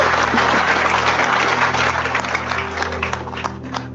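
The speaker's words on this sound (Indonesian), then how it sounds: "Tepuk tangan sekali lagi ya." Steady, loud applause from a large audience at an Islamic religious gathering, many hands clapping together and tapering slightly near the end.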